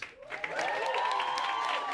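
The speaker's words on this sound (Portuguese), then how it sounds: "Palmas pra ela" An audience claps for a singer introduced with her band on stage, a lively spread of applause rising after a brief quiet start, with a thin whistle-like tone running through the crowd noise.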